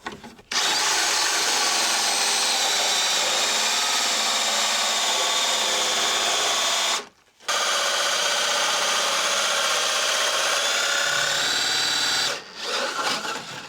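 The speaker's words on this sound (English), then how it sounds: "So I'm going to chip away some of that hole that I made." A power tool chips away wood to enlarge a hole for plumbing, running in a loud, continuous whine with a brief stop partway through and another near the end.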